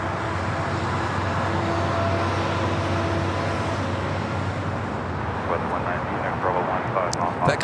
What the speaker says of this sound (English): Got another 777 arriving on the north side.